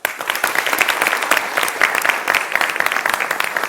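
A crowd applauds steadily and loudly, many hands clapping densely without pause throughout.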